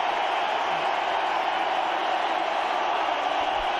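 Spectators at the 2005 India vs Pakistan first Test at Mohali, a cricket stadium, applaud batsman Kamran Akmal as his innings ends: a steady, dense roar of clapping and crowd noise that holds evenly throughout.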